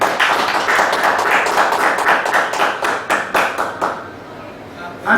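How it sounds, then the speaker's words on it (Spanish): Applause greets a speaker at a Spanish-language lecture on political reform in Mexico City's Federal District; a crisp, moderately dense round of clapping from a seated audience rolls steadily, then thins to scattered claps before a voice enters at the close. "a quien les pido le demos un fuerte aplauso"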